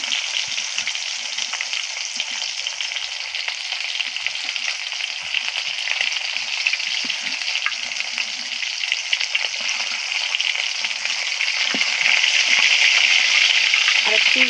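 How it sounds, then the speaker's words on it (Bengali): Silver carp pieces frying in hot oil, a steady close sizzle and crackle that runs unbroken throughout, swelling slightly louder near the end. "আর একটু ভেজে নেব আমি এবার নামিয়ে নিচ্ছি"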